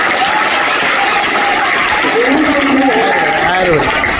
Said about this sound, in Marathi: त्याच्या नावाने जोरदार टाळ्या वाजवायच्या